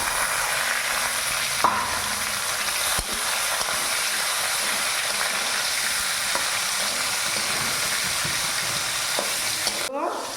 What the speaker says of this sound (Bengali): তেল দিলাম আর দিয়ে দিচ্ছি অল্প জিরে তেল লতাগুলো